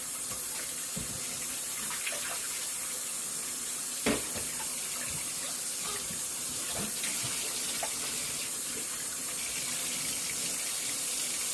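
Kitchen tap running steadily into a sink while raw chicken meat is washed under it, a constant close splashing stream with occasional knocks and handling noises, no talk.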